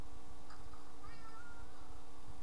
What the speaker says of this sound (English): Oh, and more kitty cats!